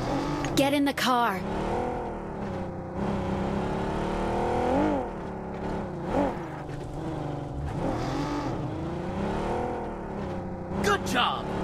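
Car engine revving and accelerating while driving in PUBG Mobile (BGMI), rising and falling pitch sweeps over several seconds, with voices talking over the engine throughout.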